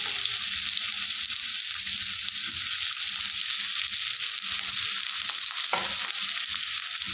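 Chopped chilli, ginger, garlic and onion fry in a pan for veg manchurian, a steady close sizzle with soft stirring scrapes throughout and no voices.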